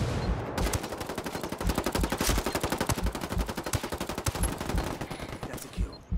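Heavy automatic gunfire rattles through a Ghost War video game match, with dense, rapid bursts of shots sounding loud and continuous for about six seconds, with no talking.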